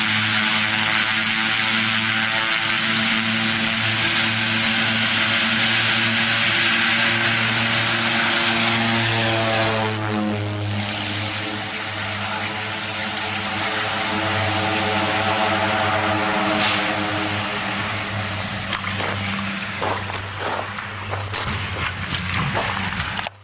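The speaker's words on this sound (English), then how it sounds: "The pilot is preparing for takeoff, unaware that he has miscalculated the takeoff performance." An aircraft's engines hum in a loud, steady drone with a strong tonal whine as it prepares for takeoff, the pitch shifting slightly midway, with a few sharp clicks and knocks near the end.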